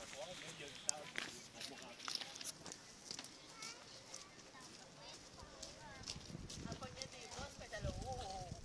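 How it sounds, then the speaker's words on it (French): Horse hooves clip-clopping at a walk, a faint, regular clopping somewhat distant, mixed with people chatting nearby. "Oh, le cheval, oh, le cheval."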